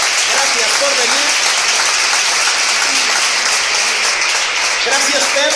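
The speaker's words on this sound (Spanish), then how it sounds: "un fuerte aplauso" Loud, dense audience applause at the close of a talk and premiere event, a continuous roar of many hands clapping up close, with faint voices mixed in beneath.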